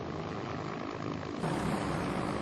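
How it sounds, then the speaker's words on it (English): A Piper PA-23 Apache propeller airplane engine drones steadily and loudly, a continuous rumbling hum that swells slightly partway through. "The plane is a Piper PA-23 Apache."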